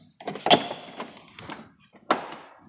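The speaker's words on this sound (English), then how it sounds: "You open the passenger door and you don't get any, adverse." Passenger door of a car opened and shut by hand, giving soft latch clicks and thunks in a short irregular series, quiet and close, with no voices.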